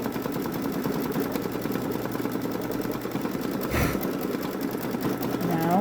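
A Babylock Solaris Vision embroidery machine stitches a garden gnome design, a fast, even mechanical whir and needle chatter running steadily throughout, close and clear, with a brief clunk partway through.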